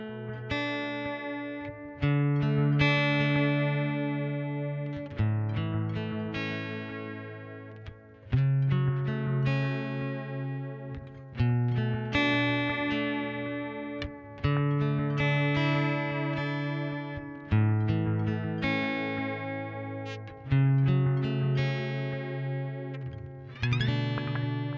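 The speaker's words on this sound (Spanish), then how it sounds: "Vamos a mirar cómo suena simplemente con un delay." An acoustic guitar runs through a delay pedal, playing worship-style chord strums and picked notes that ring and repeat with trailing echoes, steady and moderately loud with no talking.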